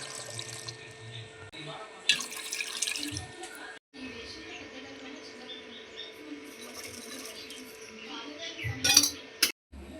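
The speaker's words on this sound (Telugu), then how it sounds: "ఇప్పుడు ఇందులో వాటర్ పోసుకొని ఉడకబెట్టుకుందాం" Water runs and pours into a pot of chopped elephant yam, with clinks of utensils and metal cookware, a steady faint tap-like flow broken by louder bursts of clattering.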